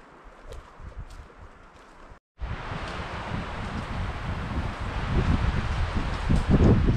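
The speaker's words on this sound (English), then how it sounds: "the wind's definitely getting a little breezy" Wind gusting outdoors in thick forest, rustling leaves and buffeting the microphone; a short quieter stretch cuts out abruptly, then a steady, louder broadband roar builds and swells toward the end, with no talking.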